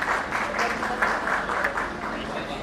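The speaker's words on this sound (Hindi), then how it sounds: "जोरदार तालियां।" Audience applause at a book release function, a fairly close, continuous patter of clapping that swells in small bursts, with some murmured voices mixed in underneath.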